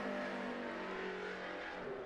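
A Toyota NASCAR Cup race car on a qualifying lap roars at a steady high pitch, a sustained engine drone heard from a distance with no voices over it.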